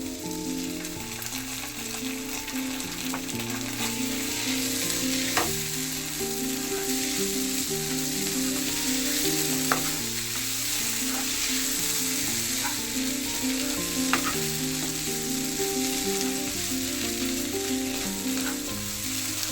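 Chicken singara filling masala frying in a pan with tomato sauce added, a steady loud sizzle running throughout with a few sharp clicks of stirring, no voices.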